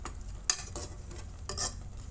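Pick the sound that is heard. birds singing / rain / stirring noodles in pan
stirring noodles in pan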